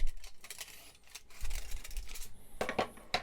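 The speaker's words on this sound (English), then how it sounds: "I'm going to use some scissors" Several crisp snips and crinkly rustles, close up, as scissors cut thin kitchen aluminum foil into shims in short bursts.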